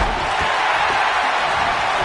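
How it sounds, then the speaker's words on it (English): Dense, steady roar of an arena crowd at a wrestling match in the WWE 2K19 video game, loud and continuous without breaks, a broad wash of cheering noise. "Listen to this crowd."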